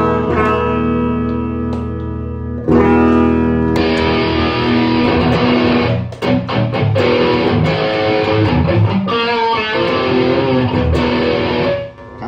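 An electric guitar runs through a Baiyang Metal End distortion pedal switched to bypass, giving a clean tone: loud, ringing chords and note runs with brief pauses, played alone without any talk.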